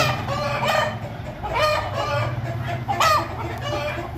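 Chickens and a rooster in a farmyard, with repeated crowing and clucking calls rising over a constant low background hum.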